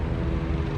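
Low steady rotor-like rumble of a police helicopter passing overhead in an urban neighborhood, a continuous broadband drone with no speech.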